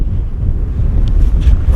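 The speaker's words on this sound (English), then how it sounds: "It's still pretty bad though, it's picking up as we speak." Strong gusty wind buffets the microphone around a Jeep, a loud, close, continuous low rumble with no talking.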